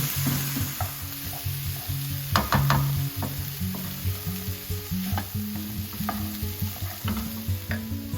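Spice paste sautéed in a pan with carrots and potatoes stirred in, a steady close sizzle under repeated scraping strokes of a utensil, with no talk.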